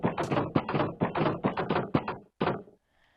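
Fence gates in the Minecraft video game swinging open and shut repeatedly, a fast run of about a dozen sharp wooden clacks in steady rhythm, loud and close, ending in a brief silence and faint tone.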